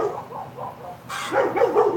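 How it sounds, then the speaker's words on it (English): A dog barks a few times outdoors in a backyard, fairly close and moderately loud, with short yelping bursts and no talking. "I'm just trying to see who he's barking at, who she's barking at."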